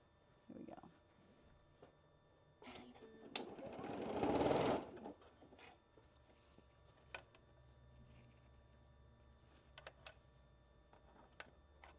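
A sewing machine stitches a quilt block seam in one loud burst of a couple of seconds, with faint clicks and handling noises before and after.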